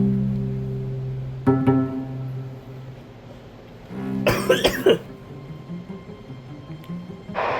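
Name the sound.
man coughing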